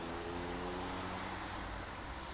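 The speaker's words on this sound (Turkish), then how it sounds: "Bu arabaların sesi de mahvediyordur büyük ihtimalle şu andaki konuşmayı" Street traffic roars steadily and close by, a dense continuous wash of passing car noise with no breaks.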